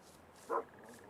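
Single bark from a dog in the Russian Fishing 4 video game, one short yelp heard at a distance over a quiet ambient background.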